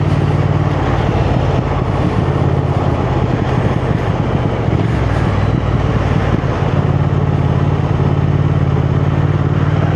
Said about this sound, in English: you do get the pops and crackles from that exhaust as well when you have the revs up